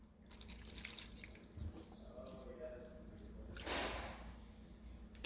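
Thick paint pours slowly and steadily into a measuring cup, with a soft splashing burst near the end, over a low background hum.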